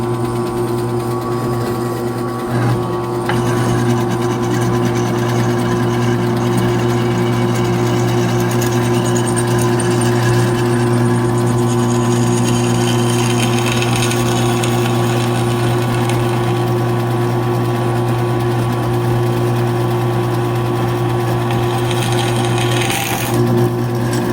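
A steady mechanical drone of a drill grinding through a steel bar runs continuously, loud and close, with a constant motor hum and no pauses.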